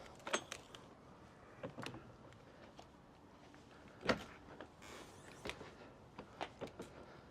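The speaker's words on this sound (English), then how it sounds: "we'll go ahead and open these doors" Quiet series of clicks, latches and rattles as the doors of a 2025 Intech Flyer Explore camper trailer are unlatched and swung open, with sharp knocks spaced irregularly over a soft background.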